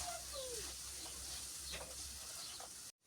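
A steady, close sizzling hiss of meat-filled doughnuts frying in a pan, with faint stirring scrapes, cutting off abruptly at the end.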